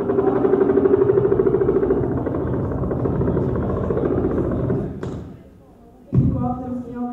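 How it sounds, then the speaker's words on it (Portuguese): Helicopters flying near a building during a committee session, a loud rhythmic rotor chop and drone that fades away. Knocks and thuds follow and a voice speaks over it. "helicópteros que realmente não respeitam o silêncio desse comitê"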